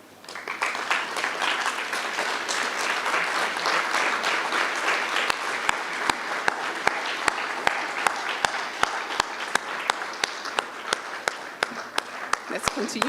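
Audience at a City Power energy indaba clapping for student beneficiaries, dense applause building and holding, then thinning into a few loud, evenly spaced individual claps near the end.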